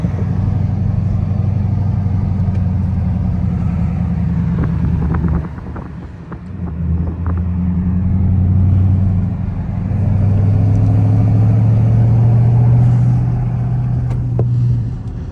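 Dodge widebody Scat Pack cruising a mountain road in Arizona, a loud steady engine drone with heavy wind and road rumble, pitch dipping briefly midway before rising and holding again.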